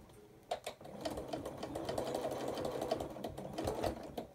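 A sewing machine stitches curved seams of an apple core table runner, its needle clattering in a fast, even rhythm with brief pauses and restarts, fairly quiet and close.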